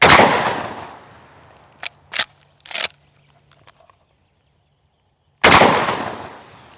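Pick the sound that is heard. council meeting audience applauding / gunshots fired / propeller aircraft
gunshots fired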